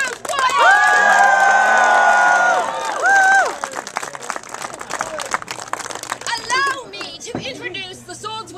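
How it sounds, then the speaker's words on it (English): A crowd at a Renaissance fair sword show cheers and shouts loudly for a few seconds, then breaks into clapping and scattered voices that fade as people keep talking. "the crowd goes wild"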